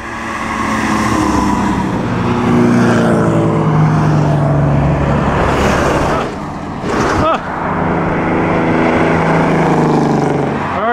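A vintage Talbot running rough roars past on a busy road by the Roman bridge at Spoleto during the 2010 Mille Miglia, a loud sustained engine drone with a brief dip, someone talking over it.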